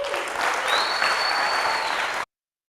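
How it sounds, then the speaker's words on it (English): An audience bursts into steady applause, a dense even patter of many hands clapping at moderate loudness, with a faint tone and murmur underneath, before it cuts off abruptly. "If you believe in yourself, clap 1 time. If you're going to live your dream, clap 2 times."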